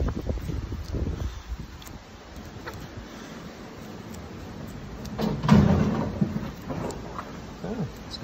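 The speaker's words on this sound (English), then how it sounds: "it's getting windy out there." Steady wind rushes and gusts outdoors around a Boston Whaler boat, with a low rumbling swell partway through and scattered knocks and rattles, no voices.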